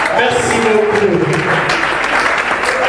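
An audience claps steadily through the room at a book launch event, a dense continuous patter with voices talking over it.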